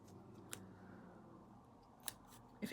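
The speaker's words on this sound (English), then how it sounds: "I've got my scissors. I'm just going to trim this" Scissors snip a few times at the ragged edges of a homemade diamond painting logbook. The cuts come as faint, isolated clicks at close range in a quiet room.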